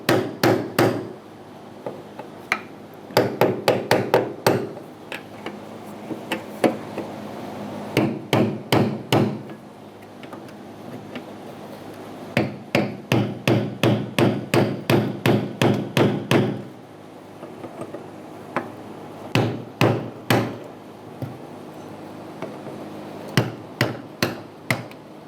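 A hammer strikes a brass punch to turn the fuel pump ring on a 2004-2009 Mazda 3 2.3L, sharp metallic taps in rapid clusters of several blows with short pauses, close and loud.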